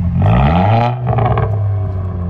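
A Volkswagen Scirocco R engine revs loudly and close by, its note falling off as the turbos spool down, with a rising burst of mechanical rumble and clatter in the second half.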